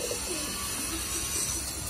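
Masakali pigeons, a rare and valuable breed, in a flock of about 25: low, soft cooing repeats under steady background noise.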